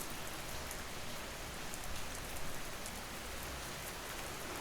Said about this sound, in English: The rain outside sounds gentler now, as though the house itself softens the storm.